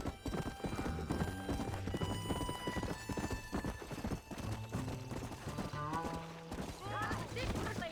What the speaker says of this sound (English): una carrera de caballo, que esa es la misión